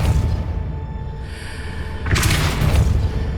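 A Depulso force-push spell cast in the Hogwarts Legacy game, a loud whooshing burst that swells partway through over a steady rumbling game backdrop.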